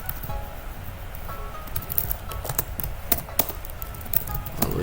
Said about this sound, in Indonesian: Oke, kita ngetik